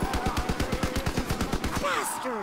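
Rapid, evenly spaced automatic gunfire from a WW2 Zombies shooter game fires steadily at zombies, loud and close, with a few game effect sounds near the end.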